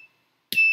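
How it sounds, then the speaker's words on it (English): A push-button-triggered electronic buzzer on a small hobby circuit lets out a brief faint chirp, then after a pause sounds again as a sudden, loud, steady high-pitched tone. "push button works with the buzzer"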